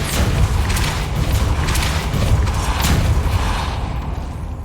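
A Depulso force spell cast in the Hogwarts Legacy video game, a loud booming whoosh with rumbling thuds that swells and fades over a few seconds.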